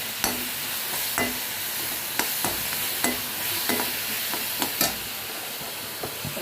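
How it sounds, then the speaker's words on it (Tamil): Tomato sautéing with salt in a pan for thuthuvalai chutney: a soft steady sizzle broken by regular scraping stirs of a spoon against the pan, close and moderately loud. "அதுக்காக இதில் உப்பு சேர்த்து வதக்கணும்."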